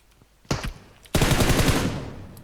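Video game gunfire: a short burst of shots, then a loud, sustained automatic volley of rapid, close rounds that tails off, with no talking.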